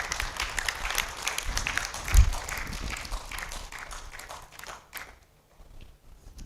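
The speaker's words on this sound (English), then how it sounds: "Please, a round of applause for them." An audience at a parenting conference applauds in a dense, steady round of clapping that holds for about five seconds, then cuts off abruptly and leaves a quiet room.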